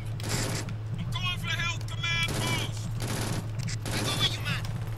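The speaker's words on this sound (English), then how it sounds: "Buff chain gun, that's never good." Rapid bursts of chain gun fire in the shooter game Brink crackle in several loud volleys over a steady low hum, with brief gaps between bursts.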